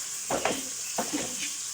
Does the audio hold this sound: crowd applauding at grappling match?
no